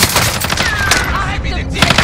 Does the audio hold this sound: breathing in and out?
no